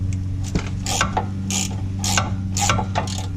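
Ratchet loosening 11 mm bolts on a Camaro, clusters of crisp, close clicking strokes repeated in quick rhythmic bursts over a steady low engine-like hum.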